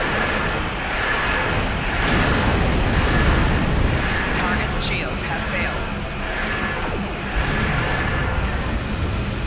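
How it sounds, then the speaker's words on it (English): Torpedo spread explosions in the Star Trek Online space battle game, fired from a Voth Bulwark dreadnought cruiser, rolling deep booms and rumbling bursts under continuous game noise, with a voice speaking over them. "Yes, there's my torpedo spread."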